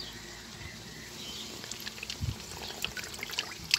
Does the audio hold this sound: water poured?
yes